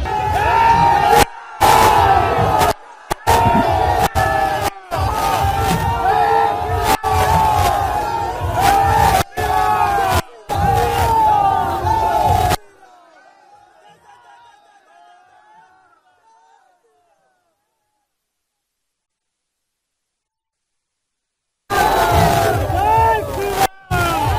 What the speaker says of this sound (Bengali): রাম ধ্বজা নিয়ে এই যে মিছিল, বিশ্ব হিন্দু পরিষদের মিছিল